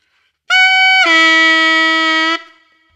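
A single sustained saxophone palm key note, bright and buzzy, jumps abruptly to a lower, rougher donkey-like honking tone and holds before stopping; no talking.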